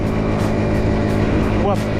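Stock 50cc four-stroke moped engine revving hard and steadily through wheelies, a continuous buzzing drone close by with a brief rising whine near the end, wind noise mixed in.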